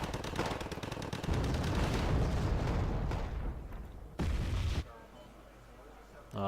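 Rapid bursts of gunfire and heavier artillery blasts pound continuously in a Wargame Red Dragon battle in Scandinavia, then cut off abruptly and return briefly before fading to a quieter rumble.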